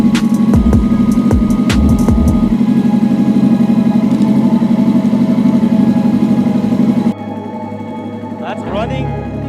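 An R6 sportbike engine swapped into a Raptor quad runs at a loud, steady idle close by, with a few sharp knocks early on. It cuts out near the end, leaving a quieter tail.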